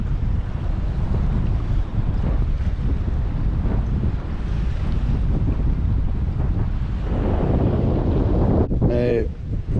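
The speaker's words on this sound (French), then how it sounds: "il y a encore pas mal de vent quand même" Strong wind buffets a sailboat anchored off a private island in the Bahamas, a steady roaring rush with wave wash and microphone wind noise throughout, and a brief voice near the end.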